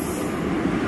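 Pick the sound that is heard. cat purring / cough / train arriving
train arriving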